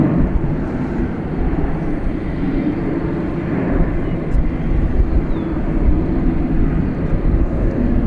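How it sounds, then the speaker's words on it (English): American Eagle Embraer E-Jet airliner at Dallas Fort Worth International Airport at night, bound for Lubbock, Texas, heard as a steady, broadband low roar that holds evenly through the whole stretch. "we have this American Eagle E-Jet. It appears to be headed to Lubbock"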